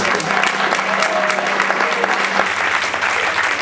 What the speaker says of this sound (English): I'd like to give them a round of applause